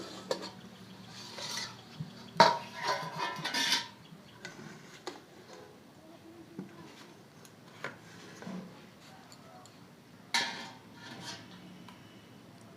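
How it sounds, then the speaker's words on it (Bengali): A lid comes off a steaming pot of homemade suji idli with a few sharp metallic clinks and rattles, followed by softer scattered taps and handling noises in a quiet kitchen. "আমি এবার ঢাকনা খুলব।"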